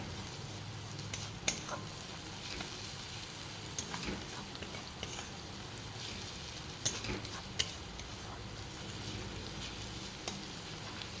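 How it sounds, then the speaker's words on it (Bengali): Onion, ginger and garlic fry with turmeric and chili powder in a constant crackling sizzle, punctuated by the occasional scrape and clack of a stirring utensil against the pan. "পেঁয়াজ, আদা, রসুন ঠিকঠাক ভাজা হয়ে গেলে এতে অল্প হলুদ গুঁড়ো আর লঙ্কার গুঁড়ো দিয়ে আবার ভাজবো"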